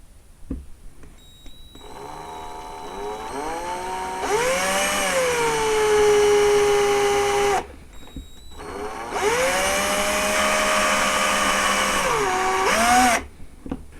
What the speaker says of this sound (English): I have my drill here and I'm going to very carefully drill this out.